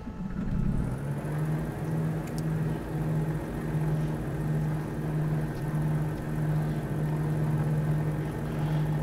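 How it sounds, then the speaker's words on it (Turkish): Aircraft engine in Microsoft Flight Simulator 2020 running just after start-up, a steady humming drone with a pulsing low tone and a light whir, continuous and evenly loud. "Evet, motor çalıştı."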